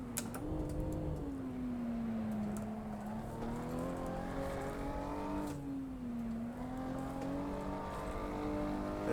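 A race car engine in Assetto Corsa held under steady throttle, droning continuously and loud with a rising and falling pitch as it pulls through the revs, alone without talk.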